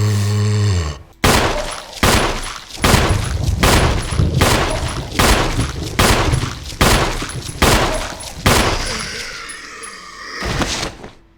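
Roughly ten sharp, loud gunshots from a video game ring out one after another at an even, deliberate pace, each followed by a short echoing tail, with no talk over them.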